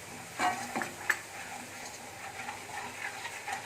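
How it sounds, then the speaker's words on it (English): Garlic frying in hot oil with crackled mustard seeds in a pan for spicy masala sweet corn, a soft steady sizzle with a few faint pops and a light stir or clink. "Now garlic has fried a bit."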